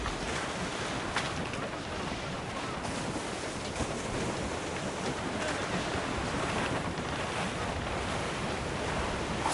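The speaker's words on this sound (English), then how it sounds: "It's quite a rough squall, Cap." A rough sea squall in Assassin's Creed Rogue: continuous loud roaring wind and crashing waves, dense and unbroken with no talking.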